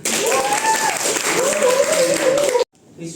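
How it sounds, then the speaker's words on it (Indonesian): A room full of people applauds, dense steady clapping with a voice carrying over it, then the applause cuts off abruptly near the end. "Oke, tepuk tangan."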